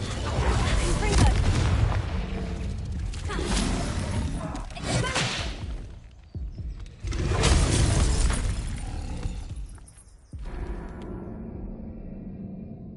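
Repeated loud blasts from the Confringo explosion spell in a Harry Potter video game, heavy booms with shattering crashes and whooshes in two big waves, trailing off into quieter game ambience, with a voice heard among the noise.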